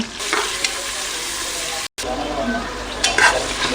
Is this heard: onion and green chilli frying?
yes